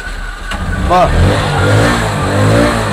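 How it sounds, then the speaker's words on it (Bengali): A second-hand 2022 motorcycle in good condition at a used bike showroom in Kolkata, its engine running close by with a throaty rumble that swells and eases, while someone talks over it. "গাড়ি ইঞ্জিন সাউন্ড দাও দাদা, মনের মতো না হলে দাদা নিতে হবে না, এরকম সুন্দর ইঞ্জিন সাউন্ড আছে"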